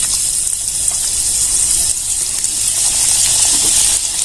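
Pieces of bitter gourd frying in hot oil in a wok give a loud, steady gushing sizzle that holds even and unbroken throughout, with no voices.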